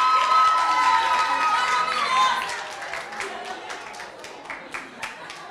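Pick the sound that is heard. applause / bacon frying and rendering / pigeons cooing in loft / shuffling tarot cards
applause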